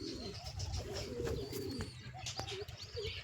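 A young pigeon chick being raised for training coos softly a few times, close by, against a busy background of chirps and other bird calls.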